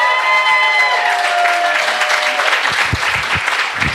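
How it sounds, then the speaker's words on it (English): An audience at an Ignite Denver talk night claps for a speaker, the applause building under fading tonal music and ending with a few sharp, separate claps close by. "round of applause."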